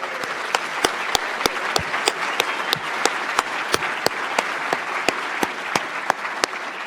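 Audience applause marking a birthday at an annual meeting's president's address, a steady broadband patter of many hands with sharp individual claps standing out, moderately loud and continuous throughout.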